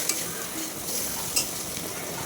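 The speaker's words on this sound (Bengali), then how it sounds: "নাড়াচাড়া করে নিচ্ছি ভালো করে, একটু লাল লাল করে ভালো করে নাড়াচাড়া করে নেবো" Jackfruit curry fries in a pan while being stirred, giving a constant close sizzle with occasional scrapes and knocks of the utensil against the pan.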